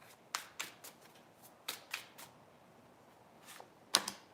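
Tarot cards are dealt one at a time onto a surface, each giving a crisp slap or flick. About nine to ten of these come in an uneven rhythm, close and quiet, with no talking.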